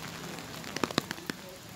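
Rain falls in Kamakura, Japan, as a faint, steady hiss. A few sharp drop taps cluster near the middle, and no voices are heard.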